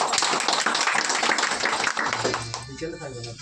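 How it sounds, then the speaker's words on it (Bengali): Audience at a Tiens business event in Goghat, Hooghly, clapping for Yasmina Khatun: dense, loud applause from many hands, thinning toward the end as a tonal hum rises beneath. "ওনার জন্য বড় করে হাততালি চেন।"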